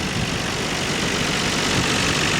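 A 1999 Nissan R34 Skyline GT-R V-spec with 94,000 km, its engine idling in a steady, even low rumble under a broadband hiss, close and constant throughout with no voices.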